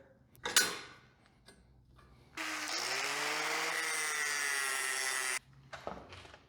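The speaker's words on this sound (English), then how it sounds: "I'm gonna have to grind it pretty smooth for the rollers to come up through there" An angle grinder smoothing a weld on a steel frame for a homemade elevator in a backyard fallout shelter: a sustained, loud, whining grind for about three seconds, framed by shorter clanks and scrapes of metal handling before and after.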